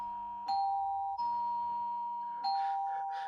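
A doorbell sound effect in an Arabic radio drama rings several times, clear and close, each electronic ding-dong chime sustaining before the next press.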